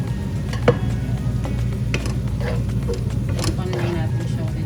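Carrots, beans, capsicum, celery and cabbage stir-fried in a pan, giving a steady close sizzle with scraping stirs and a sharp utensil clink, while a person talks over it.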